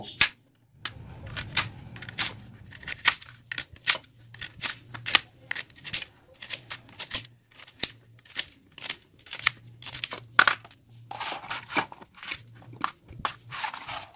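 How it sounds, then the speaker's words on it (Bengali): A knife cuts white radish into pieces with a run of crisp, close chopping clicks and crunches in an uneven rhythm, separated by short pauses. "আমি এবার এই মূলোটিকেও প্রথমে পরিষ্কার করে ধুয়ে নিয়ে ঝিঙের মতন কেটে নেব।"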